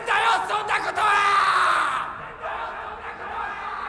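A male character in the anime film Kizumonogatari II screams in a long, strained, loud cry that breaks off, followed by fainter reverberant vocal sounds.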